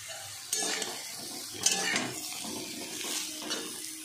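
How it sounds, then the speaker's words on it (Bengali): Sliced ridge gourd and potatoes frying in a pan, a steady soft sizzle with a few sharp spatula scrapes and clinks against the pot as the pieces are stirred, close and fairly quiet with no talking. "লম্বা লম্বা করে কাটা ঝিঙেগুলো দিয়ে একটু ভেজে"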